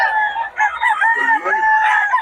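A farm rooster crows loud and close, with a long drawn-out call and some clucking mixed in, heard alone without talk.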